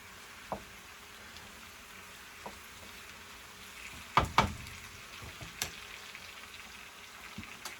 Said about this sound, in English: But I always like to saute it first a little bit